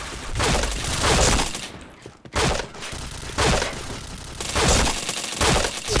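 Rapid bursts of gunfire in a first-person shooter video game, loud and dense volleys repeating across the clip with brief gaps between them.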